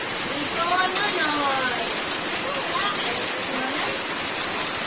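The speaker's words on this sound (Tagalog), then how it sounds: "Kakarating lang namin, ang lakas ng ulan." Heavy rain in Mindanao falls as a dense, steady hiss that fills the whole scene, with voices talking and calling over it.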